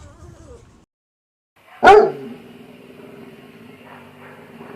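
A dog gives a single loud, close bark after a quiet pause, followed by a low lingering hum in the background.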